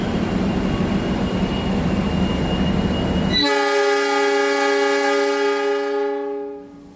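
The Imperial luxury passenger train leaving Purwokerto station in Java: a steady loud rumble of rolling cars, then a long sustained horn blast taking over and fading near the end.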